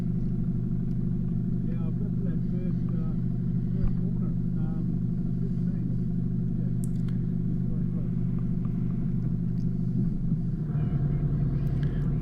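Mitsubishi Pajero 4WD with IFS crawling slowly along a rutted track in Stanley Forest, a steady low engine rumble throughout with someone talking over it.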